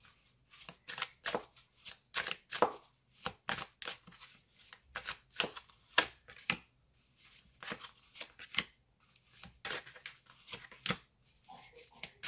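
Tarot cards being shuffled for another draw, a close, crisp run of riffling and flicking bursts in irregular clusters with short pauses between them.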